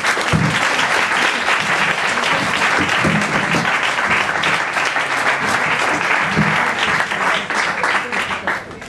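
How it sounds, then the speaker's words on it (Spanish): Sustained audience applause in a Madrid pub after a talk, a dense, loud, continuous roar of clapping lasting several seconds with a few low voices mixed in. "Dadle un aplauso, porfa."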